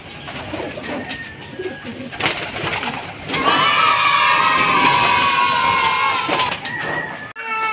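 Racing pigeons flock and coo loudly at a loft on their return from a training fun race, with bird calls, fluttering and busy noise throughout, and a thick dense chorus swelling in the middle.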